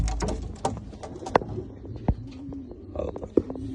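A pigeon coos a few times, close by, with low soft calls amid faint rustling and background noise.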